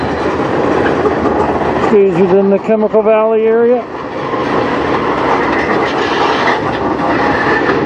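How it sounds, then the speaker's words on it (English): A CSX local industrial freight train made up entirely of tank cars rolls past in the Sarnia yard area of Chemical Valley, giving a steady close rumble with clickety-clack wheel beats while someone talks over it. "This is an all tanker train."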